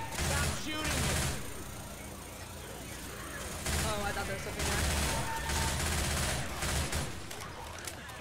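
Rapid bursts of gunfire in the zombie shooter Left 4 Dead 2, repeated volleys of close, loud shots separated by short pauses, with players' voices talking over the action.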